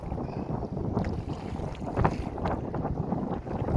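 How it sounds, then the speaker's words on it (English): Wind gusts outdoors on Lake of the Woods, buffeting the microphone with a loud, continuous rumble alongside a rubber raft, with small surges and no speech. "A bit windy out."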